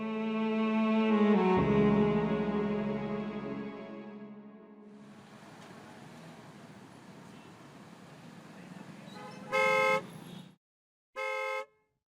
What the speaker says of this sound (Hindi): वो कब से हॉर्न दे रहा है